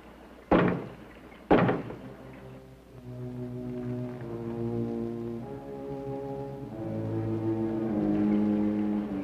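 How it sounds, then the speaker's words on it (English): Two heavy knocks land close together at the start, loud and hollow, followed by a low sustained tone of eerie background music. "Knock twice if I'm not the first."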